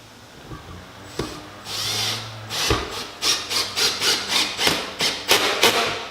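Screws are driven into an RV taillight that sits on butyl tape, making a run of about a dozen rhythmic rasping turns that quicken and grow louder, close by, with no talking.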